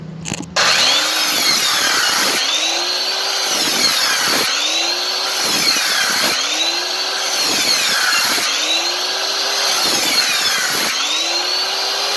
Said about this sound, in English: we're going to make a bunch of cuts, 6 or 8 of them, with the saw all the way through